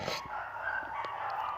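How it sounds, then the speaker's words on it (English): Dogs bark somewhere in the background, with faint, muffled yaps that sit under a hissy, noisy room tone. "And if you hear my dogs barking in the background"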